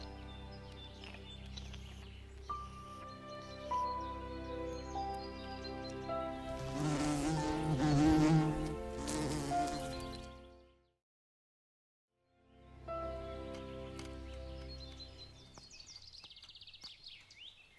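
Flies and other insects buzz near decomposing fallen trees in a European beech forest in Slovakia, a faint drifting hum with a stronger burst midway, a short silence, then the buzzing returns.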